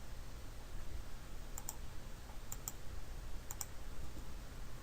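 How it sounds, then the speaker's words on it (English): A computer mouse clicks faintly in a few quick pairs, spaced about a second apart, over a steady low hum of background noise. "Just using this one and clicking OK."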